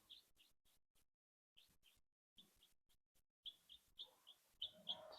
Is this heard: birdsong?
yes